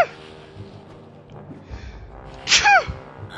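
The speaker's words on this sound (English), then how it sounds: "I had to sneeze and it kinda came for it quickly." A sudden human sneeze during a Sword Coast Legends game session, a sharp burst near the end rising out of quiet room and game background, close to the microphone.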